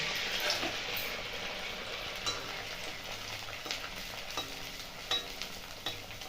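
Luchi, puffed wheat flatbread, frying in hot oil, giving a steady broadband sizzle with a few soft clicks and spatters from stirring throughout, close and alone without any voices.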